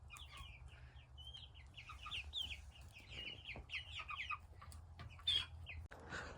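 Hens clucking and chattering close by, a steady run of short, busy calls over a low rumble of background noise.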